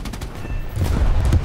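Aircraft cannon and machine guns in War Thunder strafe a pillbox, with dense rapid bursts of gunfire rattling over a low engine drone.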